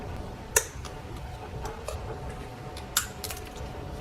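An electrical connector is unclicked from an ignition coil on a 2012–2019 Ford Focus 2.0L engine, giving a couple of sharp plastic clicks among faint fiddling taps, close and quiet.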